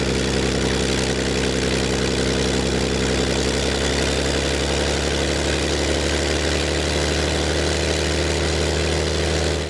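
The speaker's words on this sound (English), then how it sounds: "Gradually warming the engine up." Allison V-1710 aircraft engine warming up on a dynamometer at around 1200 RPM, a loud, steady, deep droning idle with a constant low rumble and vibration throughout.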